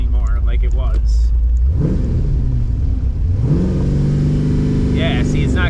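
A Pontiac Firebird engine with an oil pressure problem, idling loud and close, then blipped twice with brief rising revs that hold at a low steady pitch rather than climbing higher.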